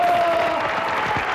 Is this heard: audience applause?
yes